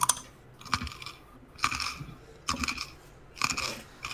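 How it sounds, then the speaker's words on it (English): Someone nearby chewing crackers with crisp, crunchy bites in four distinct bursts about a second apart, quiet and close with no talking. "Somebody else is chewing crackers or something."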